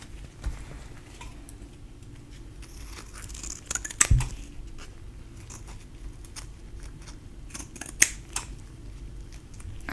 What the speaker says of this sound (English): we're just gonna get a couple pieces of tape here to tape it on.